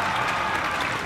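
Dense, steady applause from a high school homecoming kickoff audience, honoring the activity director. It fills the whole brief moment at an even level with no pauses.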